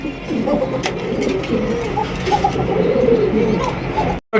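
Pigeons, including a pair of black Danish pigeons, coo softly and repeatedly over a steady background murmur, low rolling calls continuing throughout before a brief cutoff at the end.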